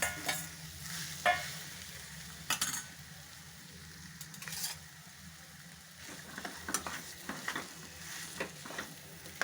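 Mashed potato being added to a hot pan and mixed in, a soft sizzle under intermittent spatula scrapes and clinks against the pan, close and moderately quiet.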